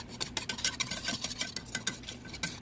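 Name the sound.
whisking flour roux in a pan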